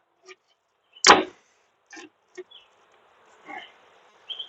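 Faint honey bees buzz in brief, scattered bursts while being transferred into a standard deep hive box, with one sharp knock early on and quiet gaps in between.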